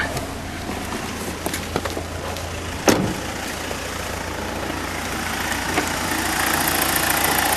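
A 2003 BMW 318i engine idles steadily nearby, a low continuous rumble with occasional clicks and one sharp knock, growing slightly louder toward the end.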